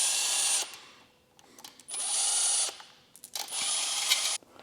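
A power tool whirs in three loud bursts, each lasting about a second with short pauses between, as it removes the main nuts on a Mitsubishi Evo 8 engine during a rebuild, heard up close.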